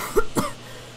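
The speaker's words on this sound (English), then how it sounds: "The driver coughed as he struggled to breathe amongst all the dust flying around." A train driver on a steam locomotive in a dusty cab gives two quick, harsh coughs close by, then a brief rasping breath trails off, with no talk.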